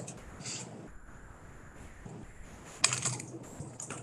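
Keys tapped on a computer keyboard at a legislative committee hearing, a light, uneven patter of clicks at close range with a slightly sharper cluster of strokes near the end.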